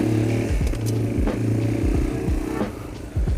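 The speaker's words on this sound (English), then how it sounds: "it is genuinely a good little motorcycle" Yamaha XT225 motorcycle ridden slowly, its small single-cylinder engine burbling steadily and close with low pulsing tones, rising briefly on throttle blips amid scattered clatter and scrapes.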